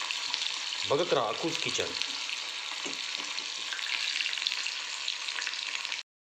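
Whole drumstick pods deep-frying in hot oil make a steady, bright crackling sizzle. Someone speaks briefly near the start, and the sizzle then runs alone until it cuts off abruptly.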